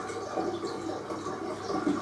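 Chilled mineral water poured to top up a batch of home-brew blackcurrant Ribena wine, a soft steady gurgling trickle at moderate distance, with no one speaking.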